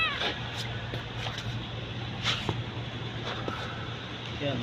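A pet cat named Mingming gives a few faint, soft meows over a steady low hum and background noise, while a person talks quietly nearby.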